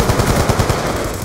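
Rapid automatic gunfire from a first-person shooter video game plays as a loud, continuous burst of closely spaced shots that lasts about a second.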